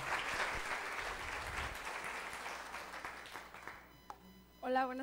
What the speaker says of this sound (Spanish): ¿Qué les parece si la recibimos también con un fuerte aplauso?